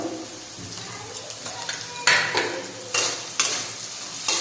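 Capsicum and onion stir-fried in a pan with a little salt for a chilli dish, soft sizzling under several sharp scraping and clanking spatula strokes against the pan, close and intermittent.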